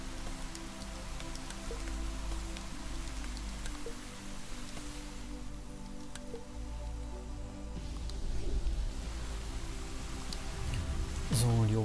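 Rain falls steadily in the farming video game Deiland, a continuous soft wash of game rain under background music and game sounds, with no talk over it.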